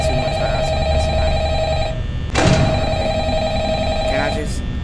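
A telephone in the Five Nights at Freddy's game rings insistently with a steady electronic tone, loud and close, with a sharp burst midway through.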